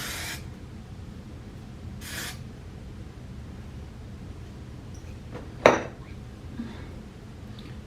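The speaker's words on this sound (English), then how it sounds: "And I spray the tiniest bit of hairspray because it's super staticky" Two short hissing bursts of Herbal Essences Volume Hairspray are sprayed onto freshly washed, staticky hair, followed by soft clinks and rustling in a quiet room.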